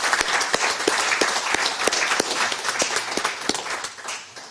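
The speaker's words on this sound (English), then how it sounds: "Let's give him another round of applause." Steady applause from an audience thanking a speaker at a livestreamed talk, dense overlapping claps sustained loudly throughout with a slight taper near the end.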